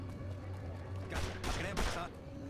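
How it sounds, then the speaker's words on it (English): Gunshots from Fallout New Vegas, a few loud broadband cracks in quick succession over a steady low game hum. "He shot 3 bullets."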